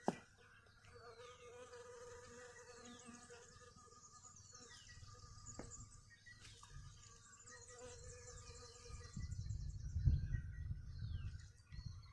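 Insects buzzing around a blossoming tree, likely plum blossom, in a garden: a continuous, fairly faint drone under occasional birdsong, swelling louder near the end.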